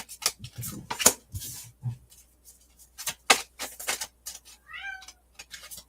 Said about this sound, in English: The cats are meowing.